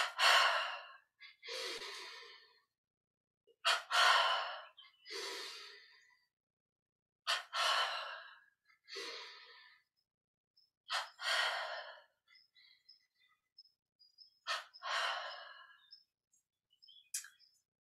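Sharp double inhales and breathy exhales repeat in separate bursts during a yoga breathing exercise, close and fairly faint, with quiet pauses between each breath cycle and no talking.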